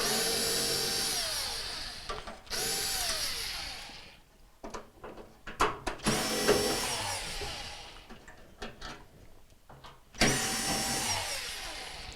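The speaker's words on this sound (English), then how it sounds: "we'll just remove the remaining Torx bits" A power driver spins out Torx screws on a Whirlpool washer being repaired for leaking and a loud spin cycle, with several loud whirring bursts separated by short pauses and clicks of handling, no talking.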